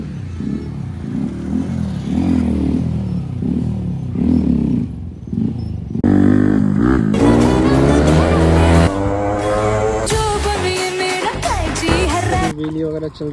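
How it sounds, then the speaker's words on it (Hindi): A motorcycle doing wheelie practice, its engine loudly revving and surging, with rising and falling pitch sweeps as the throttle opens and closes. The sound stays close and continuous. "अभी पाजी थोड़ी प्रैक्टिस कर रहे हैं व्हीली मारने की"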